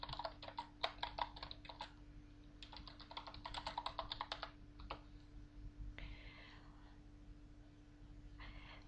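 Typing on a computer keyboard while entering commands in the text-based online game Aardwolf MUD: quick bursts of close, crisp key clicks in rapid runs separated by short pauses, over a steady low electrical hum.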